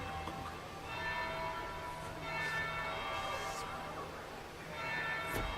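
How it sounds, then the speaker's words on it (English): A church-style bell tolling in the game Dragon Age: Inquisition, its ringing tones sustained and layered over a steady ambient bed, with a few struck peals across several seconds. "Third bell."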